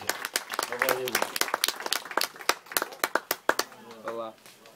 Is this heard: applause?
yes